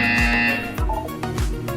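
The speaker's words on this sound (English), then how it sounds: "When you hear the buzzer, look down at the floor." Short electronic buzzer tones from the video game Portal 2 repeat in quick succession, each a harsh tonal blast with a dropping low sweep, loud and alone without voices.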